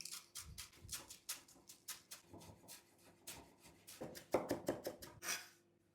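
A knife chops dill stems finely on a board in quick, close, crisp taps, about a dozen sharp strikes in an uneven rhythm over a quiet background.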